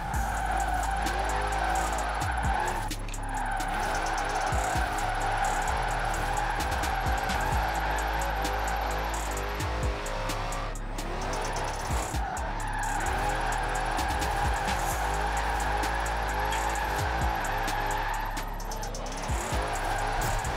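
Dodge Charger with a 1000 HP naturally aspirated engine drifting in the racing game Forza Horizon 4: a loud, continuous engine roar with long tire squeals that swell and fade through repeated slides, no talking.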